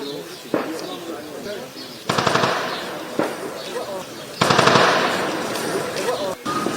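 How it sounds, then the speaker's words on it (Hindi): Gunfire at a target house during an army operation in Kashmir, heard from a distance as short rattling bursts and single cracks, with someone talking throughout. "500 मीटर की दूरी पर वो टारगेट हाउस है जहाँ पर फायरिंग की जा रही है"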